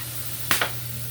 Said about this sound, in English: I just had to beat the ice with a hammer.